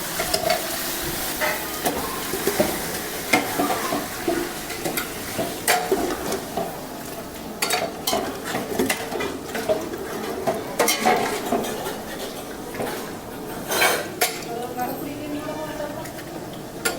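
Four kilograms of fresh mutton sizzles in a pot while a ladle stirs and scrapes against metal in irregular bursts, with a voice talking over the cooking.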